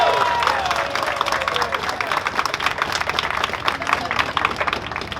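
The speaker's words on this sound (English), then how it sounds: "Let's give him a big round of applause." Audience applauding at an outdoor Hollywood Walk of Fame star ceremony for actor Burt Ward, a steady dense patter of clapping with crowd murmur throughout, moderately loud.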